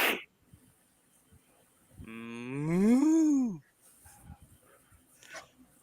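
A cow mooing: one long, loud, drawn-out moo that rises and then falls, heard close and alone, with faint clicks and background noise afterward.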